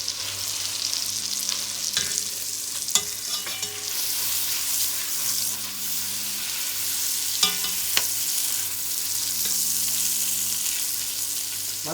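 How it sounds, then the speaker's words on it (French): New potatoes frying in a pan, a continuous close sizzle with a low hum underneath and occasional clinks and scrapes of stirring, no talk. "je vais faire revenir mes petites pommes de terre nouvelles dont je vous parlais tout de suite"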